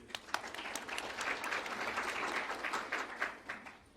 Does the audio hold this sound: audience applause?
yes